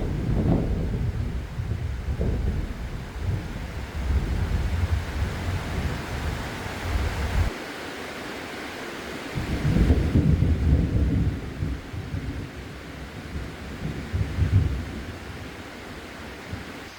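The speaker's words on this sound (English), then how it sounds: "it's been raining all morning, quite nice and heavy" Heavy rain with thunder in Hua Hin, Thailand, low rolling rumbles and gusty wash swelling and fading over a steady downpour, with a brief lull midway before the deep roar returns.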